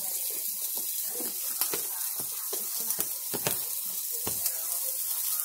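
Bacon, sausage and eggs sizzle steadily in a frying pan, with a constant hiss broken by scattered pops and crackles, close up.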